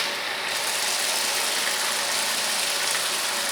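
A homemade high-pressure DC water pump built around a 775 motor runs on a 24 V supply, giving a loud, steady whirring drone with a gritty mechanical rattle and no break.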